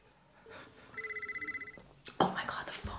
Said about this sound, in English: Oh my god, the phone. The phone. The iconic phone.